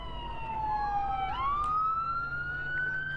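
A police siren wailing at a street protest, its pitch sliding down and then rising again, over a steady background hum.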